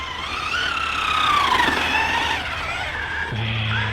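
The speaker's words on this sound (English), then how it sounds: "She likes the fishtail." Maverick Quantum R Flux RC car on 3S sliding and fishtailing on a low-grip surface, a steady high electric motor whine with wavering pitch and tire scrub, loud and close throughout.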